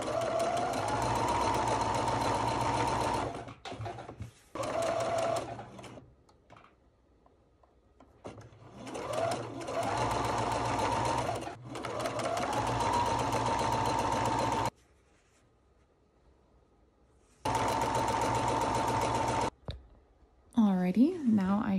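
A sewing machine stitching doll dress fabric whirs in several bursts of steady motor hum and clicking, separated by pauses, with someone talking between the runs.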